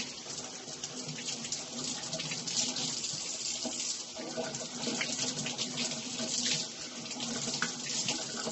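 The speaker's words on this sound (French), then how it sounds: "Donc là, on a coupé les pommes de terre. Là, on va les laver." Tap water runs steadily into a sink as cut potatoes are rinsed under it, a continuous close splashing hiss with no talking.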